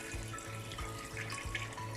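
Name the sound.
water poured into pot of beef paya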